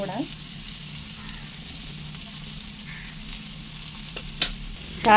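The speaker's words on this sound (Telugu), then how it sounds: "ఈ లివర్ ఫ్రై అడుగు పడుతుంది, కంగారు పడకండి, ఏం కాదు." Mutton liver fries steadily in a pan, giving a constant low sizzle close by. A few faint clicks occur, and a brief louder clatter comes near the end. No one speaks.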